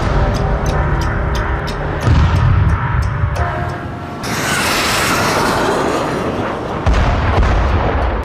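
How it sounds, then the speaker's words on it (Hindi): A guided bomb strikes its target with a heavy blast, a loud broadband roar swelling and rumbling for several seconds amid continuous booming, crackling wartime noise. "जैसे ही ये बम टारगेट को हिट करता है, जोरदार ब्लास्ट के साथ बारूदी धुएं का गुबार आसमान में उड़ने लगता है"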